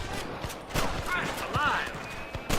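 Scattered gunshots ring out in a Red Dead Redemption shootout, sharp cracks spaced irregularly amid shouting voices, with hoofbeats and background commotion.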